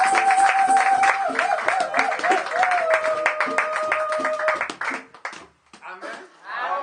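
A church congregation claps and cheers in praise during a service, a dense rhythmic crowd of hands with a sustained tonal voice or instrument line over it, fading out before voices resume near the end.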